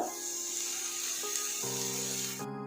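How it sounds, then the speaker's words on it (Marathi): Onion sizzling in hot oil in a pan on a gas stove, a continuous close hiss and crackle, steady and moderately loud, with some faint tonal ringing in the background and no talk. "आता आपण कांदा चांगला भाजून घेऊया"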